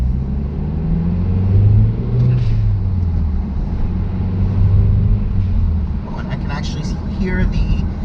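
Mazdaspeed3 after an engine swap driving on a main road in winter, engine rumbling steadily with a couple of short hissy bursts from a Turbosmart blow-off valve venting on lift-off; close and loud, with a voice talking over it.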